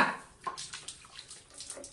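Water runs from a newly installed shower pipe in a steady, close hiss of spray, with small splashes and drips scattered through it.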